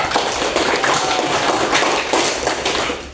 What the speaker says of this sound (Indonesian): Yuk kita kasih aplaus juga untuk kelompok 3.